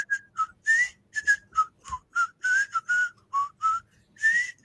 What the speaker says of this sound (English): Maybe she'll whistle us in next week.